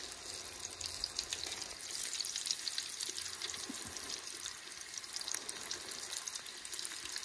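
Small pieces of fish fry in hot oil with a continuous, close crackling sizzle, steady and bright, with no voices.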